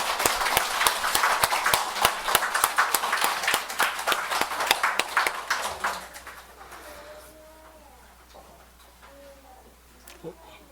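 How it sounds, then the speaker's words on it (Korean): A church congregation clapping together in a burst of applause during a Sunday service, loud and lively for several seconds, then fading out into quiet murmuring. "서로 우리 옆 사람을 향해서 박수 한번 합시다"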